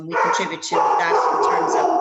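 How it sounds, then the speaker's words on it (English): A dog barks repeatedly in the background while a person keeps talking over it. "I'm sorry about the dog barking."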